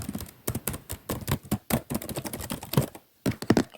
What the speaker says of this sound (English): I like this typing setup because you can hear the typing on both sides